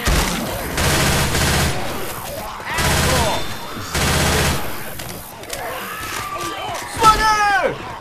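Rapid bursts of gunfire from the zombie shooter Left 4 Dead 2, several loud volleys at a steady rhythm broken by short gaps, with game effects and a voice shouting near the end.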